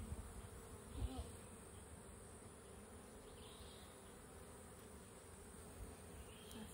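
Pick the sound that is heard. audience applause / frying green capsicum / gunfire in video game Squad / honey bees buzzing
honey bees buzzing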